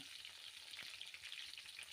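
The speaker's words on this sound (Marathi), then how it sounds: "आता हे वांगे घालायचे आहेत तेलामध्ये गॅसची फ्लेम आपल्याला लो ठेवायची आहे" Brinjals frying in oil in a pan over a low flame give a steady, soft, close sizzle with faint crackles, heard alone without talk.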